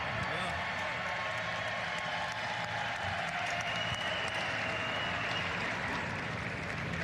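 Large crowd at the 2024 NFL Draft cheering and applauding, a dense continuous roar of claps and shouts filling the whole stretch, steady and loud.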